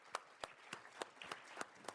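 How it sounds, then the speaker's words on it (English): Sparse audience clapping for the Oxford African Society leadership at a panel event, a small group producing about eight evenly spaced claps, faint and distant. "Let's give them a round of applause."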